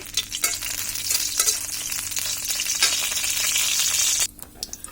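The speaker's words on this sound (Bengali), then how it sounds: "তেলটা গরম হয়ে আসলে আমরা শুকনো মরিচগুলো এখন দিয়ে দিব" Dried red chillies frying in hot oil, a loud crackling sizzle with stirring scrapes that runs steadily, then drops off abruptly near the end.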